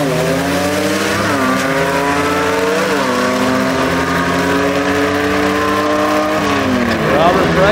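Southeast Gassers drag race cars at Knoxville Dragway, including a black and blue car, roar steadily with rising and falling engine pitch, loud and continuous, with an announcer talking over the racket.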